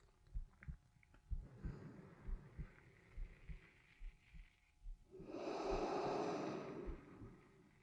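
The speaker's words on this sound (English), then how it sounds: "3 more breaths here." Slow, deep breathing during a relaxation exercise: soft rhythmic inhales and exhales close to the microphone, ending with a longer, louder breath out like a sigh, with no talking.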